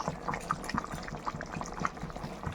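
Boal fish pieces are slid slowly into a simmering curry gravy with potatoes, producing soft, close liquid splashes and gentle sloshing in a quiet kitchen.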